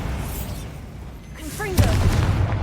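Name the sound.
Bombarda spell blast in Hogwarts Legacy video game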